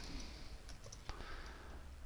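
Keys on a notebook computer keyboard, faint scattered clicks and taps against a quiet hiss, with no voices.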